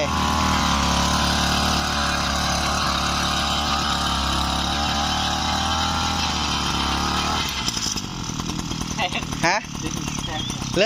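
A small secondhand Japanese rotary tiller's engine roars loud and steady while churning soil, then drops lower and rougher near the end with some clattering.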